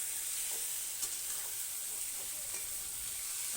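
Tomato masala sautés in a pan with a low, even sizzle and occasional stirring scrapes, quiet and continuous with no voices.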